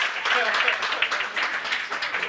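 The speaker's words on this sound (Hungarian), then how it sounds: "Akkor nagy tapsot az úrnak, ezt elvitte." Studio audience at an improv comedy show bursts into sustained applause, dense clapping filling the room throughout with no break.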